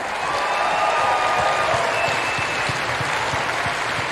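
A rousing round of applause from orchestra and audience at an outdoor Melbourne Symphony Orchestra concert, a steady, dense wash of clapping from many people that holds evenly throughout.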